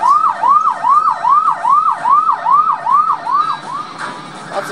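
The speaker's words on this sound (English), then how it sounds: "you hear this helicopter or the really loud siren" A loud, rapidly wailing siren rises and falls in a steady repeating cycle over a constant helicopter whir, from the arcade game Chase H.Q. 2 by Taito, with no voices.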